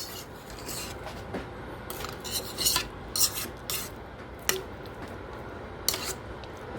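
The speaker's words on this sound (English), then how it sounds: "so that you can scrape the sides down." A spatula scrapes down the sides of a mixing bowl of mashed potatoes with butter for shepherd's pie, giving a series of quiet, irregular scraping and rubbing strokes with small clinks, up close and without talk.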